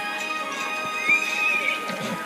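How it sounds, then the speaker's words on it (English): A horse in a Roblox Wild West outlaw game whinnies with a long, bright neigh over a steady, dense bed of game sound, while soft clip-clopping hooves tap along beneath it. "Call the horse."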